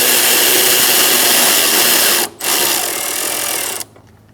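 A nut being snugged onto a bracket stud while replacing the MAP sensor on a 2004-2009 Mazda 3, heard as a loud, continuous whir of a power driver with a brief pause, then a lower run before stopping.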